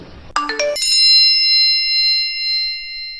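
A short rising run of bright chimes leads into a clear ringing notification bell tone that sustains and slowly fades, loud and close.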